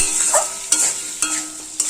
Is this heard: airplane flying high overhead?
no